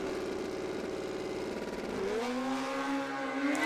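A modified drag racing motorcycle, the Pro Cycle Dyno Suzuki, launches at Willowbank Raceway. Its engine holds a steady buzzing drone, then the pitch sweeps sharply upward as it pulls away, loud and fairly close, with no voices.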